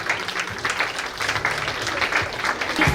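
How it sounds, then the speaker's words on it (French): Guests at a civil wedding ceremony applaud the groom's arrival, a dense, steady burst of many hands clapping close by for about three seconds with no voices. "On applaudit pour monsieur."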